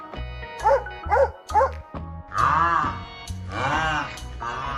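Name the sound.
dog barking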